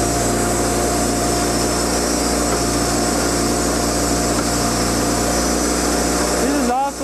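A sawmill cuts hardwood lumber with a steady, loud, continuous machine whine and hum running unbroken throughout, ending with a short dip at the very end.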